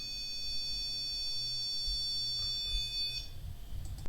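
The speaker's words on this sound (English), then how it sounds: "That is the only time the REM pod went off the entire night." An REM pod ghost-hunting device sounds off in an abandoned farmhouse, a steady high-pitched electronic tone that holds for about three seconds and then cuts off, with faint handling noise behind it.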